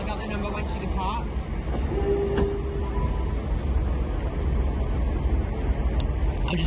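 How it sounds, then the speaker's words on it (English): A Class 397 TransPennine Express train departs Carlisle station, heard as a steady, fairly loud rumble of rolling stock that continues through the whole stretch, with station ambience around it. "There's a Transport Line Express 397 down the other end of the platform."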